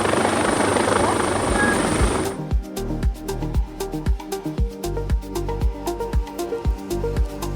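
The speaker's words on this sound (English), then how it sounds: "We were not bracing for a helicopter." A helicopter's rotor thumping in a steady rapid beat over a cruise ship at sea, loud and close, preceded by a rushing engine roar.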